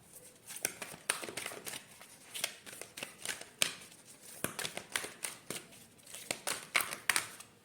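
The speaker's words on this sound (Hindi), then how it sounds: "आपके लिए एक और ओरेकल कार्ड हम निकालते हैं।" Oracle cards being shuffled and drawn by hand, a steady run of close, crisp riffling flicks and soft paper slaps with no voice over them.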